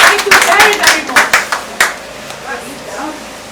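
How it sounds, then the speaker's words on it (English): An audience at a talk claps briefly, a loud burst of distinct hand claps close by that thins out after a couple of seconds, leaving a few faint sounds and a low voice. "Please let's clap for it."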